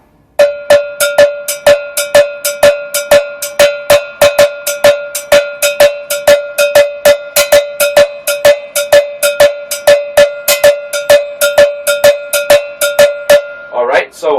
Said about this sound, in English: I'm going to create a cascada rhythm on the cowbell